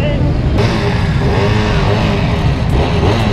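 A Husqvarna motorcycle engine runs at a steady idle and rumble, up close at a Distinguished Gentleman's Ride event in Madrid, with crowd noise in the background.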